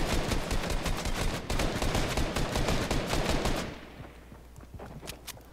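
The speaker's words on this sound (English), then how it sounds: "Can you stop shooting me?" Fortnite gunfire: rapid automatic shots in a loud, continuous stream for several seconds, then stopping abruptly, leaving a few faint scattered shots in the quieter remainder.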